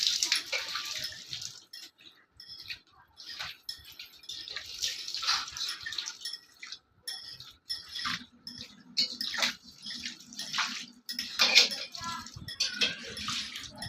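Home puja ornaments being washed by hand in water, with intermittent splashing, trickling and dripping in short bursts, close by and fairly quiet.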